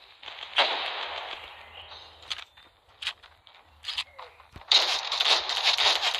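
Gunfire from a shotgun in the mobile shooter game Standoff 2 comes as several sharp bursts with short gaps between them, plus a denser run of shots near the end, set over quiet game ambience.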